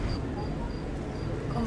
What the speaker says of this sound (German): ist eine Grille, die so laut zirpt, dass man die bis hierhin hört